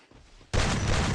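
Rapid burst of gunfire in an online competitive shooter game, a dense fusillade that cuts in abruptly after a quiet moment and stays loud and sustained to the end.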